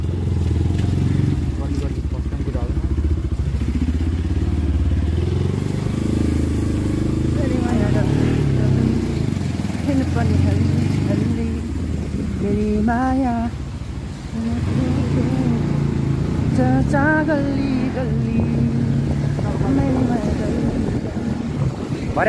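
Motorcycle riding through narrow alley lanes, its engine a steady droning rumble under heavy wind buffeting on the microphone, with people talking over it throughout.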